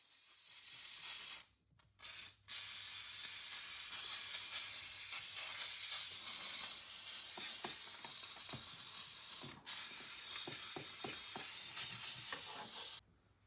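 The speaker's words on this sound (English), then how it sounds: "coming in here with the steamer, just coming in, getting everything loosened up" Steam cleaner blasting into the engine bay of a Porsche Cayman S 987.1, a loud, steady close hiss that cuts out briefly a few times, with faint tapping and clicks underneath.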